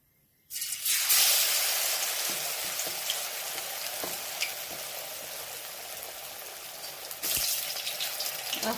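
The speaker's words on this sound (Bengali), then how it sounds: "এবারে ব্যাটাটার মধ্যে মেখে নিয়ে ওগুলো ভেজে নেব।" Battered pumpkin-leaf fritters fry in hot oil in a wok. A loud sizzle starts abruptly, crackles steadily throughout, and surges again as more batter goes in.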